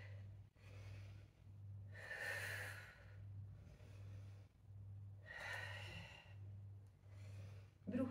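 Two long, breathy exhalations during a Pilates balance exercise, each lasting about a second, heard close over a steady low hum.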